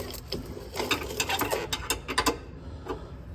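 A ratchet tightens a bolt on a car's undercarriage in a series of quick clicking bursts, uneven and moderately close, with short pauses between strokes.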